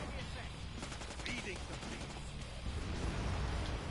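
Shotgun fire in Killing Floor 2, several quick blasts over continuous in-game combat noise, with a voice talking over the action.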